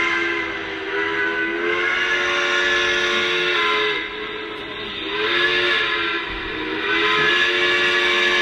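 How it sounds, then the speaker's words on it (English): A Lionel Pennsylvania K-4 model steam locomotive's whistle effect blows in long, steady hissing blasts, three sustained tones with brief dips between them, loud and close. "the Approvable Whistle with our whistle steam effect"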